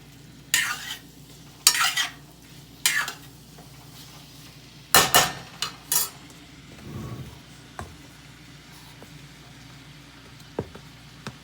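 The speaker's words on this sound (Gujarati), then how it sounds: "સરસ રીતે હલાવી દઈશું મિક્સ કરીશું" A spoon stirring green bell pepper curry seasoned with coriander-cumin powder in a pan over a gas flame, giving several sharp scraping and clinking bursts with soft sizzling in between, close and fairly loud, with no talk.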